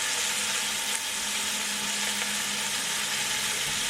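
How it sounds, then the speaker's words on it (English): Pot roast searing in a hot pan for a Sunday dinner gives a loud, steady, broadband sizzle that holds evenly throughout with no talking. "Now this is going to sear for about 6 minutes"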